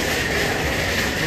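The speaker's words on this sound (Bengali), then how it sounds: "এই যে আমাদের পেছনেই কক্সবাজার এক্সপ্রেস" Cox's Bazar Express train standing at a station platform, giving a steady broadband rumble and hiss with faint rail clatter, continuous and fairly loud with no talk.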